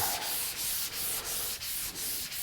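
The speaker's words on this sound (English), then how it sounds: "it's what you might call blocking, block sanding" Rhythmic, raspy hand block sanding of primer on car body paintwork, long back-and-forth strokes with brief pauses between them, close and loud.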